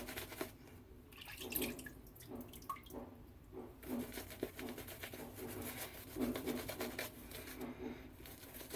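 Water trickling and dripping into a sink as it is added to shaving soap, soft intermittent splashes close by.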